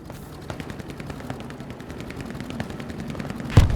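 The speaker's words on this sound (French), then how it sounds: "Attention, l'artillerie a repris." Gunfire crackles steadily in a Hell Let Loose battle, a rapid run of moderately distant shots and bursts that builds gradually and ends with a louder artillery blast.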